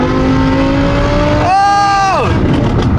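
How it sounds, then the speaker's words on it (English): A straight-piped, tuned Audi R8 accelerates hard: a loud, raspy engine note climbs steadily in pitch, surges higher, then drops away sharply at the shift. "Really step on the gas, alright? Like, slam your foot on the floor."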